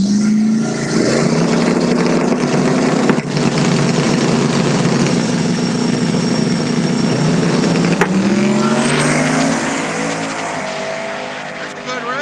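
Two Fox body cars launch side by side in a no-prep drag race, engines screaming loud and sustained with tire squeal, the roar holding for about ten seconds before easing as they pull away.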